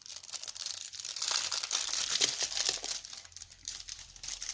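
Crisp crinkling and rustling of small paper stickers handled up close for scrap earring making, a continuous papery crackle with no talk.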